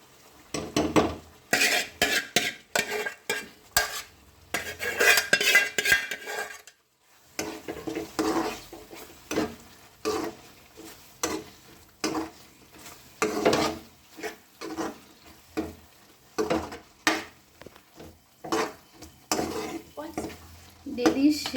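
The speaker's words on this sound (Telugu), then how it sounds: "ఇప్పుడు క్యాప్సికమ్ ఫ్రై చేసి ఇది వేస్తున్నాను." A spoon stirs and scrapes capsicum masala curry as it sizzles and fries in a pan, rapid repeated scraping strokes close up with a brief pause partway through.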